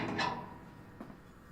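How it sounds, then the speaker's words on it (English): A removable tube door on a 1950 Willys truck being pulled free, a brief scraping knock at first followed by a fainter metallic tap a moment later, close by. "you can see if you pull the door out"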